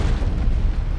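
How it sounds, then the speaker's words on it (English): A grenade goes off in Warhammer 40,000: Space Marine, a loud, dense boom rumbling continuously through the whole second with no voices over it. "Hello, grenade."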